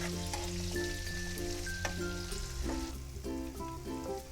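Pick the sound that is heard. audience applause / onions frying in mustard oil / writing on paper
onions frying in mustard oil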